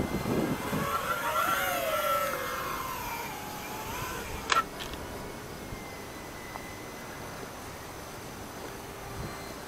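An E-flite Cessna 150 RC airplane's electric motor whines as it powers up and climbs away on a go-around over an abandoned airport, the pitch rising then fading into the distance, with a sharp click midway.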